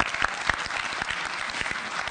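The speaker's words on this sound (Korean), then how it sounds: "박수 부탁드리겠습니다." Executives at a business breakfast seminar clap together in a steady burst of applause, with individual claps audible through the crowd sound.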